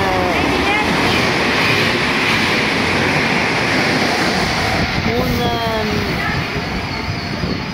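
A Tper regional train rolls into an Italian station in Emilia-Romagna with a loud, steady rumble and brief squealing brakes near the end, heard up close on the platform.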